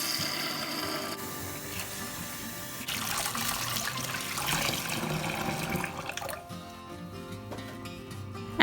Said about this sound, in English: As soon as you finish cooking in it, fill in with some water, tap water.